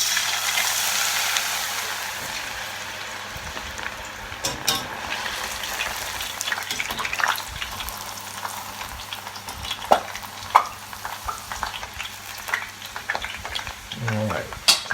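Carrots fry in hot oil with a steady crackling sizzle, while a utensil stirs and pushes them around in intermittent scrapes and clicks close by.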